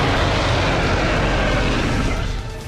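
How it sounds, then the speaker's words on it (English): A steady, loud jet-engine roar blasting from a robotic Rex's mouth in a video game, a dense, continuous rushing noise that fills the whole stretch before easing slightly at the end. "He has a jet engine in his mouth."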